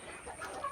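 Desi chickens on a farm flock of about a hundred hens cluck softly in the background, faint scattered calls with a slightly sharper cluck near the end.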